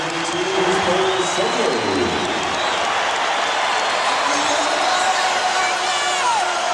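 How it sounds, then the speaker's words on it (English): A basketball arena crowd at a Lakers–Spurs game roars and cheers after Kobe Bryant sinks a long three-pointer at the quarter's end, a sustained loud wash of cheering with whistles and shouts, with an announcer's voice over it. "Listen to this crowd."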